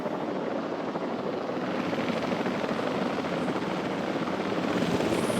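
Helicopter in the Jurassic World Evolution 3 game transporting dinosaurs, a steady, dense rotor and engine roar that stays loud and constant throughout with no pauses.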